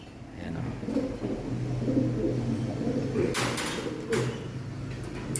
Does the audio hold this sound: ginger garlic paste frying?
no